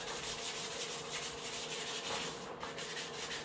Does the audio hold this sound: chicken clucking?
no